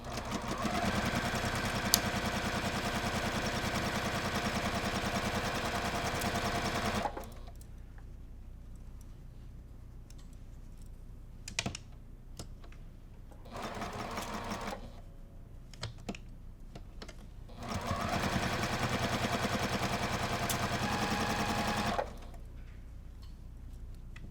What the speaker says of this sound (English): So we're going to go to our sewing machine and stitch down these 3 seams.